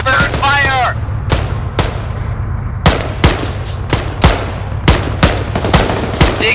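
Gunfire in the ArmA 3 video game: a burst of shots followed by sharp, loud single reports spaced unevenly, with a voice briefly shouting at the start.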